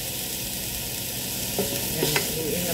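Chicken floss stirred in a pan with Kikkoman light soy sauce, a steady close sizzle and frying hiss with a few soft scrapes of a utensil near the end.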